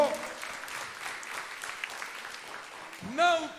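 A church congregation applauds during a sermon on spiritual warfare, a dense, steady clatter of many hands at moderate distance, with a voice briefly rising over the end.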